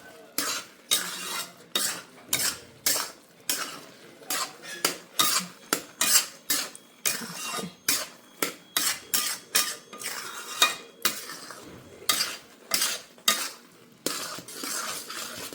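A spoon stirs carrot halwa with ghee and cardamom powder in a pan. Repeated quick scraping strokes in a fast, uneven rhythm, close and fairly loud, with clinks against the metal and no talking.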